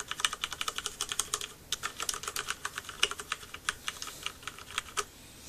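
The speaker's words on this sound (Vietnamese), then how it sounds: "bấm bàn phím mình thấy rất là êm, âm thanh nó không tạo ra lớn lắm." Fast continuous typing on a Ducky Shine Limited Edition 2012 keyboard with Cherry MX Red switches, dense quiet keystrokes heard up close with brief pauses, no talking.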